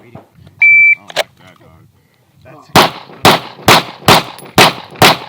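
Pistol shots ring out during a lateral Bill Drill: six loud, sharp reports fire in an even, rapid cadence, preceded by a brief electronic start beep and some quiet talk.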